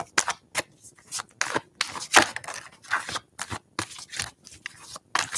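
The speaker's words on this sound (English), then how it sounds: "let's shuffle and then cut the deck" A deck of tarot cards being shuffled and cut, heard as a series of crisp, rapid papery riffles and snaps in irregular bursts, close and fairly loud.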